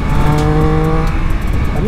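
A Triumph Speed Triple motorcycle with 180 horsepower revs in its sportiest mode, a loud, steady, close engine drone with a rising pitch at the end, while a voice talks over it.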